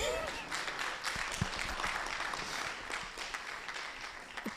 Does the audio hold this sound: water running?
no